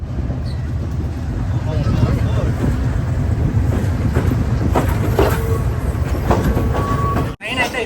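A Colombo to Kandy train pulls out of Colombo Fort station, heard from a second-class carriage as a deep, continuous rumble with scattered metallic clanks and knocks, while voices chatter nearby and a brief jolt comes near the end.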